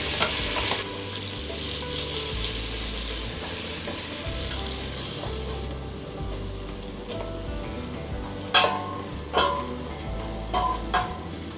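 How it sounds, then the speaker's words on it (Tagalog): Garlic, onion, ginger and lemongrass sauté in oil and butter for a Thai-inspired seafood sinigang, a steady close sizzle under repeated stirring, with sharper utensil clinks near the end. "Igisa ang bawang, sibuyas,"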